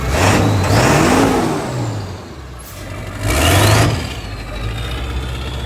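A school bus fitted with a custom exhaust accelerates hard twice, its engine roaring up in rising sweeps with a brief ease-off between them and tire noise mixed in. The sound is loud and close.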